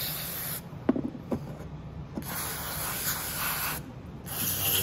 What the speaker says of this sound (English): we're going to take some carb cleaner, and it doesn't matter what kind of carb cleaner it is. This is Motomaster, but it doesn't really matter. And let's spray it all out.